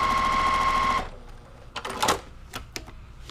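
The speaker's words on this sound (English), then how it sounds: "I will just sew over that again. And I'll just sew over previous stitches so that nothing comes out." A sewing machine runs in one steady, loud stitching burst as it sews back over earlier stitches on a quilt block, then stops abruptly, followed by a few scattered clicks and handling sounds.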